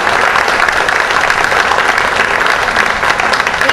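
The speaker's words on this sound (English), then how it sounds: "a big round of applause for all three of these gentlemen" Dense, steady applause from an audience at a civic association forum in Cape Coral, a continuous loud wash of clapping filling the whole stretch with no pauses.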